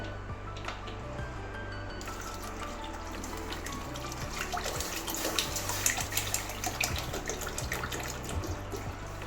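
Water is poured into washed mung lentils in a pot for a Malabar spinach dal, a steady splashing stream with scattered drips and squishy bursts that grows busier partway through.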